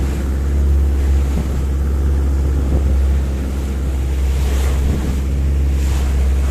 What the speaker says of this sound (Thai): มีแต่คลื่น บางส่วนนิดหน่อยนะครับ